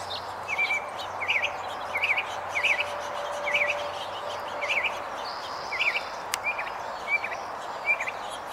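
Songbirds chirp at a backyard birdseed table, with short bright tweets repeating about every half second over a steady outdoor hiss, moderately close and with no talk.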